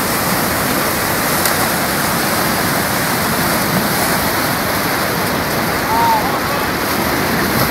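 Powerful whitewater rushes through a slalom rafting course with movable gates hung on wires, a loud, steady broadband roar that fills the whole clip without letup.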